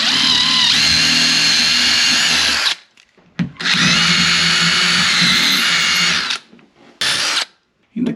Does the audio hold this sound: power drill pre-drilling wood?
yes